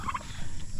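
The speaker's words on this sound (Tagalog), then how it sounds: "Ayan yung mga pabo natin dito." A brief turkey gobble on a farm, a quick rattling warble heard close by for under a second.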